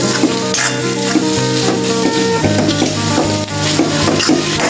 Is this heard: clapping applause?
no